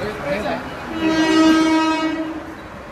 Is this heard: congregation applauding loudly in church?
no